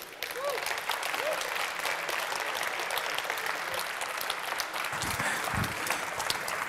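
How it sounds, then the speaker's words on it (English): Audience on a main stage event clapping after a talk, a steady wash of applause held at an even level, with a faint voice briefly heard underneath near the end. "One more round of applause"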